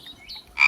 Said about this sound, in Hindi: ये तो मेंढक बोलता है। This is the croaking of a frog.